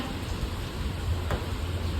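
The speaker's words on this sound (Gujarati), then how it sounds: "ફૂલ વરસાદ છે" Heavy rain falling outdoors, a dense steady hiss of drops on surfaces throughout, close and fairly loud, with no voices.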